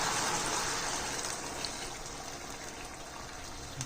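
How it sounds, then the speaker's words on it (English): Steady rushing gush of water poured into a pan while cooking Andhra-style chilli chicken, a continuous close, fairly loud flow that slowly eases off. "Now I'm adding half glass of water to cook."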